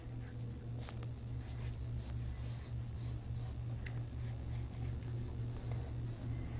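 A pencil scratches and rubs steadily across paper while a basic shoe shape is sketched for a foreshortening drawing lesson, close and continuous over a low steady hum, with no talk.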